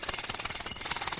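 A pneumatic drill hammers loudly and continuously up close, its rapid, harsh percussive bursts filling the short moment without pause.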